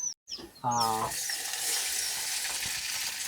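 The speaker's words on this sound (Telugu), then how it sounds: "ఉల్లిపాయలు బాగా వేగిపోయినాయి" Onions frying in a pan for a tribal crab curry, a steady bright sizzle that settles into a continuous hiss after a brief stir at the start.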